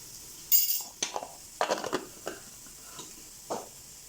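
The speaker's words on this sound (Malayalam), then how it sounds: "നന്നായി ഇളക്കി യോജിപ്പിക്കാം" Coriander powder is stirred into egg rice masala in a pan: a handful of separate spoon scrapes and clinks against the metal over a faint sizzle, with no talking.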